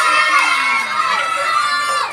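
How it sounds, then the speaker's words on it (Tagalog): Crowd of children at a first birthday party with Jollibee, shouting and cheering in a loud sustained burst, voices blending into one excited roar, close and filling the room. "Isang malakas na sigawan at palakpakan nga tayo dyan!"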